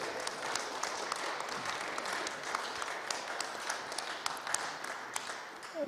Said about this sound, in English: I think she should receive a big applause.